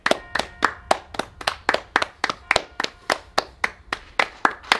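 Hands clap in a steady, fast rhythm, about four sharp slaps a second, close and loud with nothing else over them.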